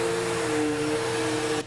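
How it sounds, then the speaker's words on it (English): A household vacuum cleaner running close by with a steady, loud motor drone and whine that holds without a break before dropping off right at the end. "Mama gonna vacuum Sophia."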